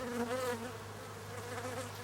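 Honeybees buzzing densely in a hive, a steady close drone of many wings with slight wavering pitch throughout.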